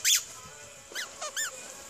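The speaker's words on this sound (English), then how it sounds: "That ball squeaks." A squeaky toy ball squeaks in short high-pitched bursts, one loud squeeze at the start followed by several quicker, fainter squeaks, close by with a dog around.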